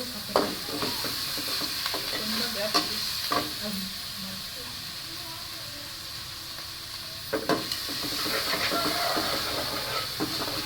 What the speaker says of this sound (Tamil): தக்காளி போட்டு நம்ம கல் உப்பு போட்டோம்னா சீக்கிரமாக வந்து கரைஞ்சிடுங்க. தக்காளி வந்து நல்லா வதங்கிடும்.